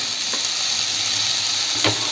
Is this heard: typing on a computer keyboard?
no